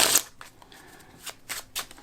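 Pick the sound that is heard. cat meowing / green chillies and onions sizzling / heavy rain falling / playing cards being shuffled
playing cards being shuffled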